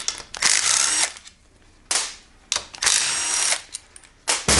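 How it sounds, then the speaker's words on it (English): Impact wrench loosening 8mm bolts on a GY6 scooter cylinder head, working in a cross pattern: several loud, close bursts of rapid hammering, each a second or so long, separated by brief pauses. "I'm removing all of these with an impact"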